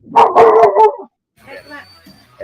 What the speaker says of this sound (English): that frog sounded like a dog